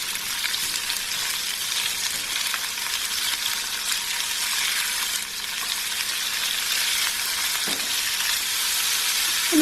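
Beans and potatoes fry in a pan for a vegan masala dish, giving a steady, loud sizzle with occasional stirring scrapes, and no voices throughout.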